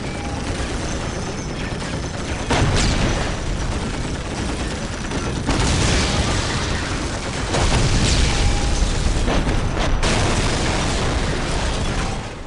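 Heavy gunfire and booming explosions rage in the Warhammer 40k Dawn of War video game, a dense, continuous barrage with several louder blasts standing out, loud throughout.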